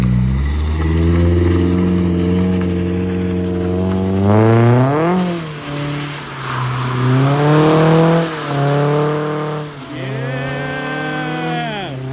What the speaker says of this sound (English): I actually drifted or did a donut,